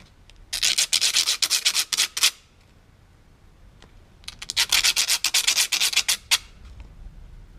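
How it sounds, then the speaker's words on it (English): Sandpaper rubbing small parts down to size, two close bursts of brisk back-and-forth scraping strokes separated by a quiet pause. "Just take some sandpaper, and we're gonna trim them to size"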